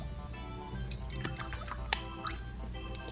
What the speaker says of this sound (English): I'm first gonna put some water in here.